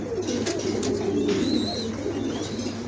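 Pigeons coo at a pigeon sales showroom, with a low, rolling coo that sits close and continuous, plus a few faint higher chirps and a brief whistle-like tone over it.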